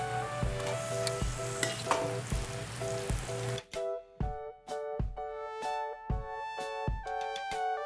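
Raw jackfruit hitting hot oil in a kadhai after fried onions, with a dense sizzle for the first few seconds, then sharp scraping stirs and clinks in a quieter, irregular rhythm.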